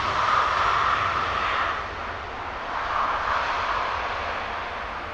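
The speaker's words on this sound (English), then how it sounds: "She's just started her takeoff roll now." An Airbus A350 jet on its takeoff roll at Heathrow makes a loud, continuous broadband engine roar that dips briefly and swells again, heard from a distance with no talk.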